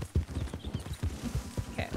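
Horse hooves gallop across desert ground in Red Dead Redemption 2, a quick, steady clip-clop rhythm close up with a faint whinny-like tone near the end and no talk.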